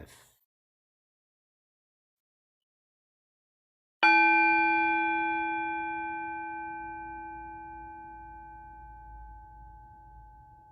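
A single meditation bell is struck once after a few seconds of silence, ringing out with a clear, sustained tone that slowly fades over several seconds.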